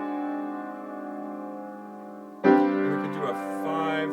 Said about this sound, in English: And here's our French sixth chord.